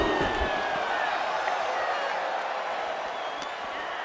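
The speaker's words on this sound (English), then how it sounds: "Sold out capacity crowd here tonight" A sold-out arena crowd in the WWE 2K24 wrestling video game gives a steady, broad roar of cheering that holds for several seconds and fades slightly toward the end.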